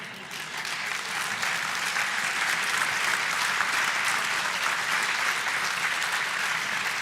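A live-event audience breaks into a dense, sustained round of applause that swells within the first second and holds steady and loud to the end.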